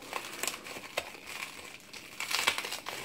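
Bubble wrap being pulled off packaged letters gives quiet, irregular crinkling and rustling bursts up close, growing denser and louder toward the end, with no talk.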